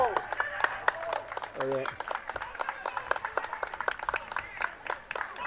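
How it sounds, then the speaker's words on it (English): A scattered ripple of applause from spectators behind the goal at a non-league football match between Salisbury and Truro City, uneven claps at moderate distance mixed with crowd voices and a short spoken exclamation. "There's a ripple of applause from behind the goal, and deservedly."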